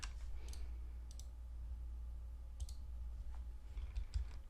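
Several quiet mouse clicks, sparse and irregular, sound over a low hum while right-clicking in Vegas Pro editing software.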